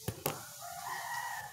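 A rooster crows faintly at a distance in a rural yard, one drawn-out call following a couple of short knocks, with no talking over it.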